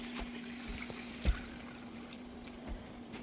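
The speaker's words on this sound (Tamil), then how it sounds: "ஓரளவு காய் வதங்கிடுச்சு இந்த ஸ்டேஜில் ஒரு அரை லிட்டர் தண்ணி" Water added to a pan of chicken mango curry as the vegetables soften, a soft steady trickle and splash with a few small knocks, fairly quiet with no talking.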